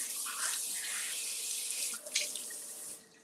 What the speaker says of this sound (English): We're gonna rinse that off and we're gonna chop it up.